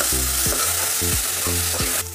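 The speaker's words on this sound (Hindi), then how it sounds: "और साथ ही में हम डाल रहे हैं पेस्ट जो हमने ग्राइंड किया था, प्याज लहसुन और अदरक का, ये देखिए अच्छे से फ्राई कर लीजिएगा" Ground onion, garlic and ginger paste frying in a hot pan, a loud steady sizzle broken by several quick spoon scrapes, close-up with no voices.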